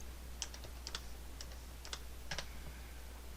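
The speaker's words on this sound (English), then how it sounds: "then we can type in, so left forearm, we're going to type in period, rotate" Typing on a computer keyboard for an animation setup: a few quiet, scattered key clicks in small bursts over faint room hiss, with no voice.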